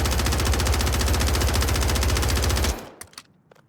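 A top submachine gun with a 50-round drum fired in Warzone: one loud, unbroken automatic burst of rapid, evenly spaced shots lasting nearly three seconds, then a few sharp tail clicks as it stops.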